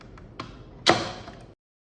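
An NKLK500 smart lock unlocking and a door opening: a few light mechanical clicks, then a sharper latch clack followed by a brief rattling swing before sudden silence.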